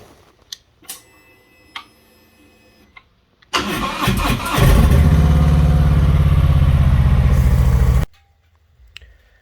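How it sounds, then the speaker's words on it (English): A Harley-Davidson Sport Glide motorcycle engine cranks over and fires up after a few faint clicks, then settles into a loud, steady, close-up warm-up idle before cutting off abruptly. "I'm going to actually warm up the bike, let it warm up before installing it so it's ready to go."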